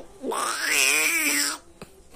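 A man mimics a cat that is losing a fight, a single rising and falling yowl, strained and wailing, lasting over a second, close up, followed by a faint click.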